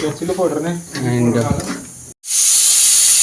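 A pressure cooker whistles loudly and steadily while garlic sambar cooks, entering suddenly after a voice and holding as a continuous high-pitched steam hiss to the end.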